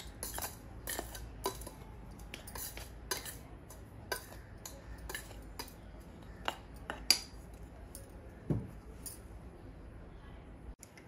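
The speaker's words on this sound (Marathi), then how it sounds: "आणि हे सारं मिश्रण आपण एकजीव करून घेऊया" Homemade instant tea premix ingredients being mixed together, with repeated light scraping and clinking of a spoon against a bowl in an uneven rhythm, close and fairly quiet.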